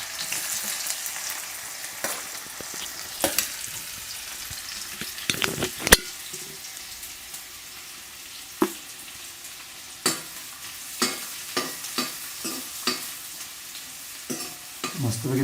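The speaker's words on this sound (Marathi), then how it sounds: "तेल तर गरम झालेलं आहे अगोदर हो. घालूया हो आता म्हणजे जो कांदा बारीक चिरलेला होता तो आपण यामध्ये टाकून घेऊ" Finely chopped onion drops into hot oil for a Malvani-style cashew masala curry, giving a steady hiss of frying broken by sharp scrapes and knocks of a spoon against the pan, close and with no talk.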